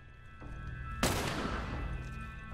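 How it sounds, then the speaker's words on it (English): A loud burst of gunfire erupts suddenly in The Last of Us, a sharp broadband blast followed by a decaying rattle and rumble over a steady low game ambience, with no talk. "How did they shoot me?"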